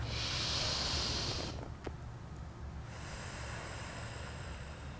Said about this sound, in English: you can start breathing in and breathing out